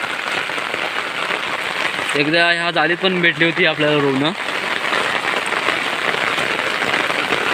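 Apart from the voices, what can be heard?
heavy monsoon rain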